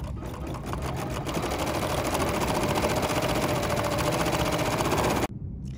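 A sewing machine starts up and stitches in a loud, rapid, even whir close to the mic, then stops abruptly just before the end.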